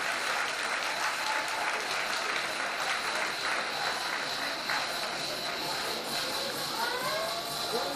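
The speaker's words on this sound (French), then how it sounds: "vous pouvez l'applaudir bien fort" Steady applause from a climbing competition audience fills the whole stretch, a dense, even wash of clapping with faint crowd murmur behind it at the final of a French youth climbing cup in Chambéry.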